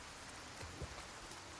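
Rain in the video game Resident Evil 4, a faint, steady hiss of falling rain with a few soft low thumps, continuous throughout and without speech.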